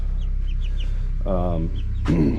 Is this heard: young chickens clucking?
yes